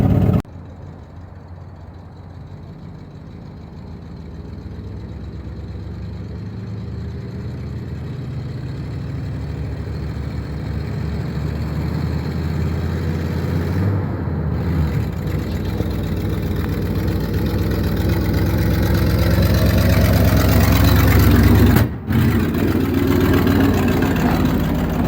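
A 1958 Chevy crane rollback truck's engine runs steadily and close, a low idle gradually building in loudness toward the end, with a brief dropout near the close.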